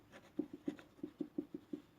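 Chalk or marker writing out a solution on a board during a game theory lecture in operations research, a quick run of about a dozen short tapping strokes, close and fairly quiet, with no talking.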